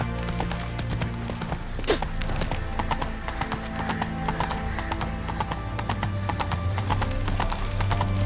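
Galloping horse hooves in The Witcher 3 video game, a steady rapid clip-clop running throughout with an occasional whinny, mixed over game ambience and music.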